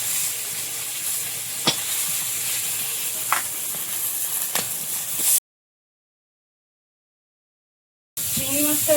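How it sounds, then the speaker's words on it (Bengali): Prawns fry in a pan with a soft, steady sizzling hiss and a few sharp clicks, broken by a brief silence before the sizzle picks up again. "চিংড়ি মাছটা একেবারে ভেজে নেবে।"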